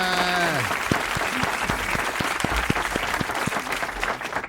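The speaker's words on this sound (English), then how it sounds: "A round of applause, everybody." Steady clapping from a crowd fills the whole stretch, loud and continuous, with a brief voice at the start and sharp individual claps standing out.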